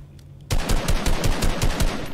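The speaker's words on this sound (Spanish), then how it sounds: "disparo con miedo porque todo el mundo va con francotirador" Rapid automatic gunfire in the video game Fortnite, a burst of about a dozen sharp, loud shots in quick, even succession starting abruptly after a brief quiet moment.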